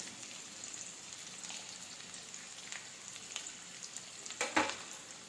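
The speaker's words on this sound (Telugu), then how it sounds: "ఇవి కొంచెం ఫ్రై అవనిద్దాం." Onions and green chillies frying in oil in a pan, giving a soft, steady crackling sizzle with scattered pops and a louder stir or clatter near the end, and no voices.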